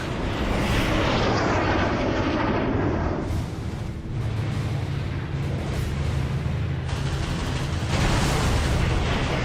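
World War II B-17 bomber engines drone loudly and continuously in aerial combat, a dense, steady roar with sharp bursts of gunfire-like noise layered over it.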